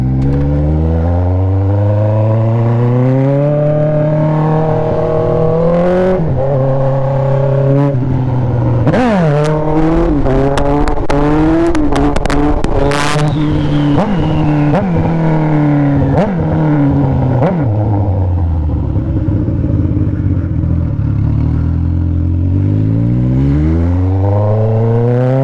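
A Honda CB1000 motorcycle engine revs hard and loud during a wheelie, its pitch climbing and dropping through repeated throttle bursts, with a cluster of sharp high revs near the middle before easing off and rising again.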